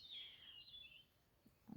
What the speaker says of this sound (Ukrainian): А пташки як виспівують.